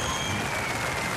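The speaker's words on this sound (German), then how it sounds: "Ja, einen Applaus hat sie auch fürs Outfit" Studio audience applause on a German TV show, a brief burst of dense, even clapping from a crowd, moderately loud and without speech.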